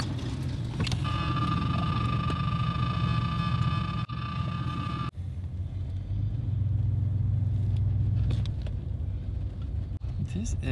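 Ford Thunderbird personal luxury car cruising along with a steady low engine rumble and road noise from inside the cabin, constant throughout with a tonal hum early on, while people talk over it.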